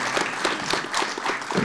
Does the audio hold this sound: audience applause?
yes